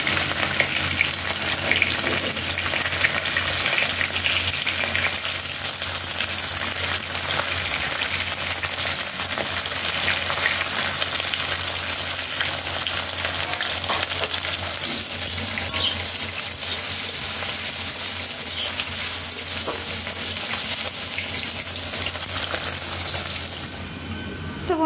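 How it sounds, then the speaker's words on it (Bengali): Fish pieces coated in salt and turmeric fry in a pan with a steady, dense sizzle that stays loud and unbroken throughout, with no voices. "আমি মাছগুলো ধুয়ে একবারে নুন হলুদ মাখিয়ে নিয়ে ভাজা করে নেব"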